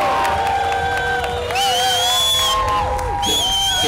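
A live crowd greeting magician Criss Angel cheers and whoops loudly and continuously, with high shrill shouts rising and falling over the roar.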